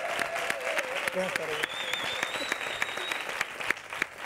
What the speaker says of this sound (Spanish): Un fortísimo aplauso.